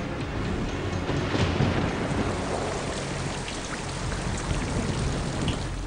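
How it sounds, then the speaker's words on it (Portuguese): Steady, dense rainfall hisses evenly throughout, with scattered drop impacts and no voices, standing in for methane rain falling on Saturn's moon Titan. "E isso significa que quando se dá a condensação neste planeta, chove metano."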